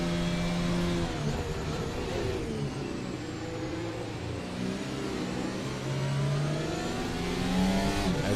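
Race car engine heard onboard at Suzuka, loud and continuous, revving up and down through gear changes as the car chases another car into a corner.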